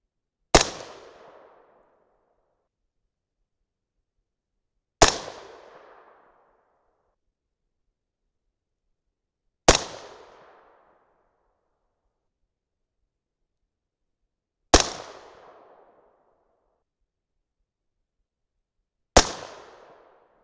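Five sharp rifle shots from a 224 Valkyrie loaded with RL17 powder and Sierra MatchKing bullets, each a loud isolated crack with a short decaying tail, spaced about five seconds apart with silence between.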